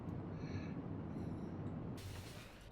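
A train rolls along in the Factorio video game, a quiet steady low rumble and hiss with a few faint whistling tones, brightening into broadband noise near the end.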